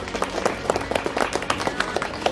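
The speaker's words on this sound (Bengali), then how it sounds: "স্যারের জন্য জোরে একটা হাততালি" Applause for a teacher at a school Republic Day function, a short burst of scattered, uneven clapping from a small audience in a room.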